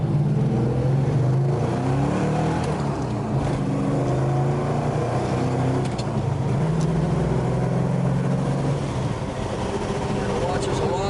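A 1969 Plymouth Road Runner's engine runs steadily nearby with loud low rumbling and mild rises in revs, continuous throughout, while a voice speaks faintly over it.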